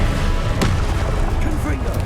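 A Confringo blasting spell from the video game Hogwarts Legacy goes off as a single sharp boom about a third of the way in, over dense, continuous game noise and rumble.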